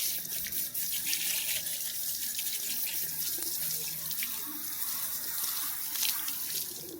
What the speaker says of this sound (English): We're just using a standard hose.